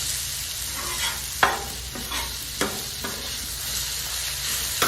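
Onions and peppers frying in bacon fat for a patty melt give a steady close sizzle, broken by a few sharp scraping stirs of a spatula in the pan.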